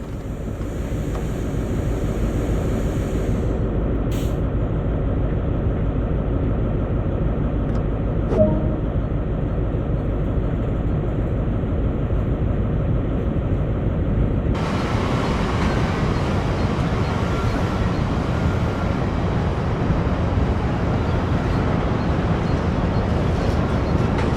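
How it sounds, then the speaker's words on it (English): A train starting to move under power in Train Sim World 2018, with a steady, loud mechanical rumble and drone throughout that grows brighter and fuller about halfway through. "Now apply some power and get this train moving."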